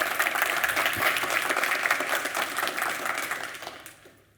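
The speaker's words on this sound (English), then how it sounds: "Please give a round of applause." A conference audience at Umbraco Codegarden 2022 gives a round of applause, a dense, steady crackle of clapping that fades out near the end.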